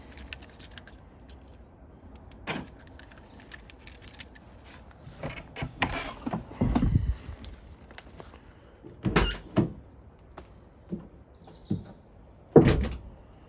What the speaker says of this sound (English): So it's got central locking